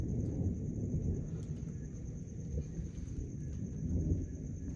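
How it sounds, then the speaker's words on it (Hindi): Low, continuous thunder rumbles on through a night after a heavy rainstorm, a steady dull roar with slight swells and no talking. "बादल भी गरज रहे हैं।"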